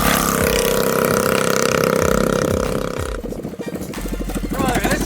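An upgraded minibike engine revs hard at speed, a loud, raspy, buzzing drone that holds steady, then breaks into a choppy, pulsing burble as the throttle drops and picks back up.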